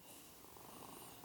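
Big Cat, a pet cat, purrs in a quiet, steady low rumble close by, faint and continuous with no voices.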